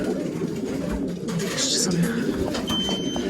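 Racing pigeons coo softly at their loft as birds return from a 340 km race from Gransee, the low calls recurring under a steady background rumble.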